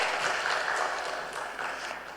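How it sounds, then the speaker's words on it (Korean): A church congregation applauds during a worship service to welcome a visitor, with a sustained wash of clapping at a fairly even level that eases off slightly toward the end. "알렉스 자리에서 한번 일어나 우리 박수로 한번 우리 환영하겠습니다."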